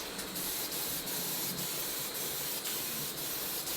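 Spray paint hisses onto a Mazda NA Miata center console in short repeated bursts, each blast fairly close and steady, with no talk.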